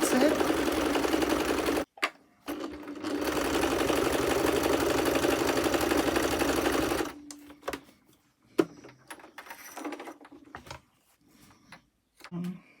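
A sewing machine stitches around the edge of a journal cover with a steady, loud whirring hum that stops briefly once, then runs again before ending in quieter handling clicks.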